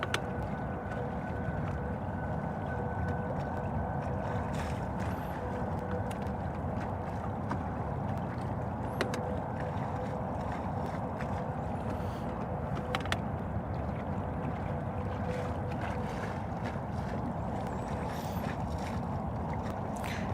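A fishing boat cruises across open water on a bass-fishing outing, its steady low engine rumble and hull wash running continuously with wind buffeting the microphone.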